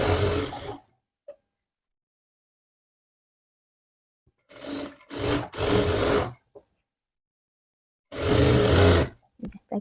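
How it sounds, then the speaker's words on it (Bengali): A sewing machine runs in short bursts while stitching the long side seams of a nightie, each burst a close, steady whirring rattle, separated by silent pauses. "এভাবে একটু এভাবে লম্বায় লম্বায় টেনে টেনে সেলাই করে নিতে হবে।"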